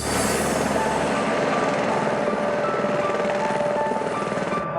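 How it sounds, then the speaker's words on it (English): A helicopter arrives, its rotor chop and engine roar loud and constant, close by and throbbing steadily for the whole stretch with no talking. "When the chopper arrives to take me away"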